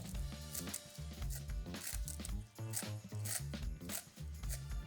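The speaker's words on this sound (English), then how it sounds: "you just cut them with a pair of scissors" Rapid, rhythmic snipping of scissors through crisp, papery toasted seaweed sheets, close up, with repeated crunchy cuts in quick succession.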